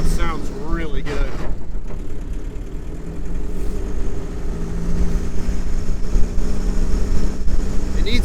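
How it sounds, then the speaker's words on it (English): A Suzuki Samurai fitted with a turbo, running in low range, gives a steady low engine drone with rumbling throughout. Speech overlaps it near the start. "That turbo sounds really good."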